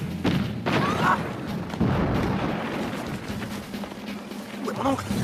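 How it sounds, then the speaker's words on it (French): A cannon fires in a battle scene of a French-dubbed Chinese kung fu film, a deep boom followed by a second heavy thud and rumbling, with voices calling out over it. "Canon 2, feu!"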